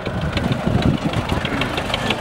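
A tractor engine idles at a kopkari horseback game in Urgut's Beshyog'och village, Uzbekistan, a steady knocking rumble running beneath loud shouting voices.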